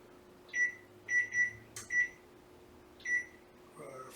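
An oven timer is set with a series of short electronic beeps, six clear tones in an uneven rhythm, close and fairly quiet in a kitchen.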